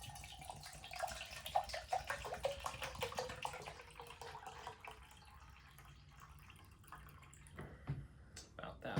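Water is poured from a canteen cup into an MRE chili mac pouch, a close, uneven trickle and splash that rises and fades over several seconds, with a low voice faintly underneath.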